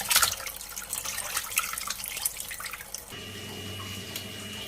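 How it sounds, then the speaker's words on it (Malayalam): Water splashes and runs steadily as beef is rinsed in a Kerala kitchen, with dripping and sloshing close by, then the flow thins to a quieter trickle. "ഇറച്ചി കഴുകി തോരാൻ വെക്കുവാണ്"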